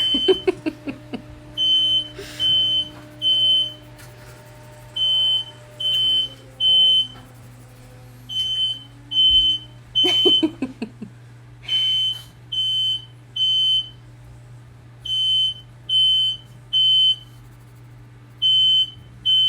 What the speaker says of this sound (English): So that noise you can hear is our fire alarm going off.